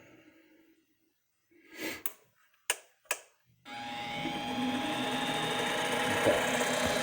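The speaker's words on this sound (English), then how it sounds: "let's turn the lathe on first" A homemade CNC lathe spins up after a few short clicks and bumps, settling into a steady, fairly loud motor whir that runs continuously to the end with no one speaking.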